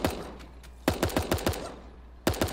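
Gunfire in a video game comes as short, sharp single shots, a sparse scattering followed by a quick run of several evenly spaced reports and a final pair, fairly close with quiet gaps between.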